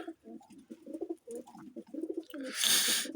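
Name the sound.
bird indoors, pigeon cooing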